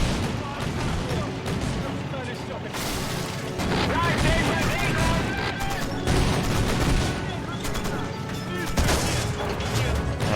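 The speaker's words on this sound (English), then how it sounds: "Anti-aircraft gun's doing its own thing." Anti-aircraft gun fire in the Men of War: Assault Squad 2 video game during a WWII battle at Balaton in 1945. Loud, dense bursts of rapid shots and blasts pile up continuously, with heavier crashes surging at intervals.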